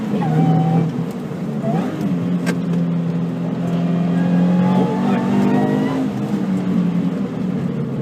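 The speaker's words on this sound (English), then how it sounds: "It's a pure sports car." A supercharged Subaru BRZ engine droning steadily at speed, its pitch rising and falling as it shifts and accelerates on a sandy back road, loud and close throughout.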